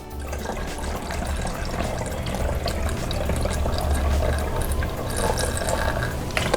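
Water pours steadily into a Drinkmate carbonation bottle up to the fill line for homemade ginger ale, a continuous close splashing gush that holds even for several seconds with no talking.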